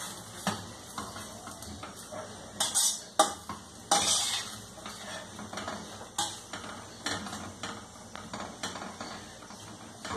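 A spoon scrapes and clatters against a pan while talinum leaves are sautéed and stirred, releasing their water, with soft irregular knocks and rustles at a low, close level.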